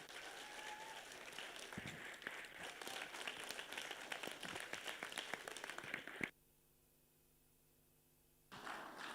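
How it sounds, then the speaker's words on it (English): An audience at a conference opening ceremony breaks into sustained applause, a dense wash of clapping that stops abruptly, leaving a quiet hum before the clapping resumes. "you can keep clapping until they're here"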